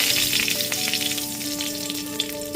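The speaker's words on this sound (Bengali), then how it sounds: "তারপর ফোড়নে দিয়ে দিচ্ছি 1 টিস্পুন মৌরি, 2টো তেজপাতা আর 2টো শুকনো লঙ্কা।" A teaspoon of fennel seeds, two bay leaves and two dried chillies fry in hot mustard oil, giving a steady, close crackling sizzle with a faint tonal hum beneath.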